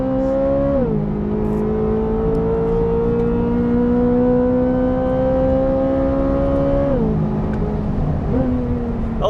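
A 2023 Corvette Z06 screams down a track's main straight, engine pitch climbing steadily through long pulls with quick dips at each upshift, loud and close from inside the car.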